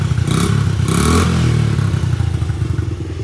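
A 50cc motorcycle engine, the kind used for burnouts, runs loud and close, with a buzzy, harsh tone. It surges twice in quick bursts, then settles into a steady rough idle with some clatter.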